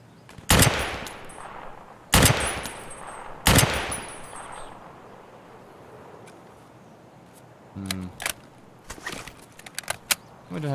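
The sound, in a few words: gunfire in video game Escape from Tarkov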